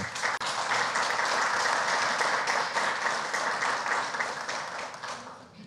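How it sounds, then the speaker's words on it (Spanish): A large audience applauds loudly and steadily for several seconds, the clapping dense and sustained before easing slightly at the end. "yo quiero pedirles un fuerte aplauso"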